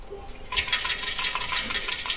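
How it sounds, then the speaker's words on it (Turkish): Coins clatter out of a coin change machine in Japan, a loud metallic jingle of many coins spilling into a tray for about a second and a half, with no talk. "burada bozuk para veren bir cihazdan değiştirme yapacağız"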